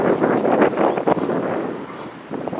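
Strong south wind gusting across the microphone on Zaimokuza beach in Kamakura on a summer day, a continuous rushing, buffeting roar that swells and eases.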